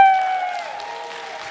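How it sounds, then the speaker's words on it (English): Audience applause at a retrofit event, a burst of clapping that starts strong and slowly tapers over a couple of seconds, with a ringing tone sustained beneath it. "Let's have another round of applause."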